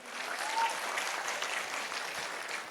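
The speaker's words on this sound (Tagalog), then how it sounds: "Ang hina naman ng palakpak ng mga babae." Church congregation applauding steadily at a moderate distance, a dense continuous patter of clapping hands with no pauses, filling the room without voices on top.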